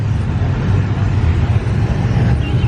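Loud truck pulling away from a Houston underground muscle car meet, a steady rough engine rumble heavy in the low end, close and continuous for the whole stretch, with no talk heard.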